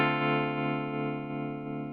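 A MayFly Terrain tremolo pedal on an electric guitar holds a sustained chord, its volume swelling and dipping in a slow, even pulse, steady and moderately loud with no talk.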